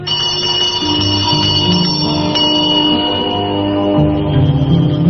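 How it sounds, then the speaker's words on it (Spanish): A small bell rings continuously with bright, sustained metallic tones, fairly loud and close, a steady jingling that shifts slightly in pitch. "mientras hace sonar una pequeña campanilla"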